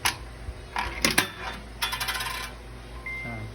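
A coin drops into the coin slot of a pisonet rental computer, giving a bright metallic clink followed by a short rattling cascade inside the machine, close and clear in a quiet room.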